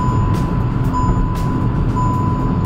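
A car's overspeed warning chime, triggered above 120 km/h on an expressway, sounds as a steady high tone with short repeated beeps over loud road and engine noise inside the cabin.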